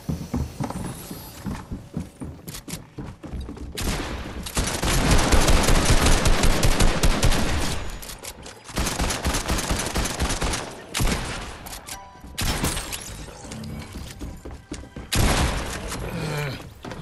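Bursts of automatic gunfire and repeated shots from a Fortnite match, loud and dense, with rapid fusillades broken by brief pauses.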